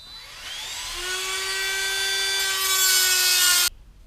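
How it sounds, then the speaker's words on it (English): A Dremel rotary tool grinds a worn metal rail on a Schwintek RV slide, a steady high-pitched whine that rises in pitch and grows harsher and louder before cutting off abruptly near the end. "let me start tooling this with the Dremel"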